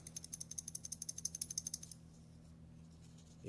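A free-floating firing pin rattles inside a Chinese SKS rifle bolt, giving a quick run of faint, light metallic clicks for about two seconds before the sound fades into quiet room tone.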